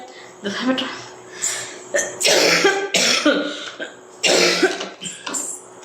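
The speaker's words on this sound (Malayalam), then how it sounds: "എന്നിട്ട് ചുമ" A person coughs repeatedly in rough, hacking bursts, some sounding like throat clearing, loud and close, with voiced sounds between the fits.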